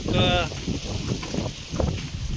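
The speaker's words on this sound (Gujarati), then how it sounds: "ક્લિયર નહીં આવે કારણ કે અહીંયા પવન વધારે છે" Gusty wind buffets the microphone with low rumbling bursts, while a voice speaks briefly at the start.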